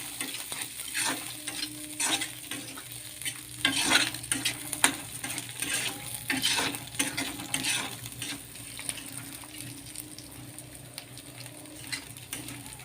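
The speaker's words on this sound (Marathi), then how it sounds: "आता याच्यामध्ये तुरीचे दाणे घालायचे आहेत एक दोन मिनटं असं छान फिरवून घ्यायचं" Pigeon peas sizzle in a frying pan while a spoon scrapes and stirs them in a steady, irregular rhythm, close and fairly quiet, with no talking.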